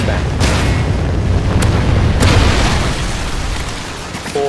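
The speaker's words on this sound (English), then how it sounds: "Friendly Trinity rocket sounding inbound." A Trinity rocket strike in a military shooter game erupts as a loud, sustained rumbling blast that fills the clip, with sharp bursts layered over a steady roar and a short radio-style voice sounding near the end.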